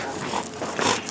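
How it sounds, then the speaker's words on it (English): A pet dog named Mia makes soft whimpering, whiny sounds close by, in short bursts over steady room noise. "That's our dog."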